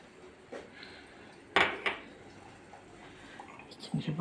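Tea glasses clink and clatter on a kitchen counter as a second glass is set down, a few sharp light knocks and a brief cluster of clinks near the end, faint and close in a quiet room.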